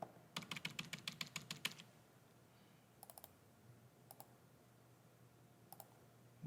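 Calculator keys tapped during math homework: a quick run of about a dozen soft clicks, then a few short pairs and triplets of taps spaced out, faint and close with no talking.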